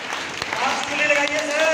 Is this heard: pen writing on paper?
no